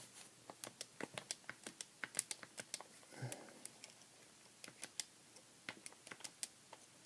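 Rapid clicking of calculator keys as fractions are entered, sharp irregular taps close by, with a brief low rustle in the middle.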